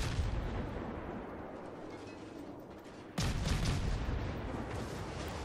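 Warship guns firing at the destroyer Wickes in World of Warships, a steady rumbling barrage with a sharp loud boom about three seconds in, followed by sustained heavy roar.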